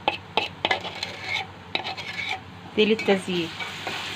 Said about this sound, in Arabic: برضو هنحمرها كده في قلبها، نحمرها مع البصله كده